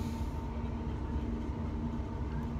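Passenger train running from Edmonton Green to Rye House, heard from inside the carriage as a steady, loud rumble with a constant hum, wheels droning evenly throughout with no talking.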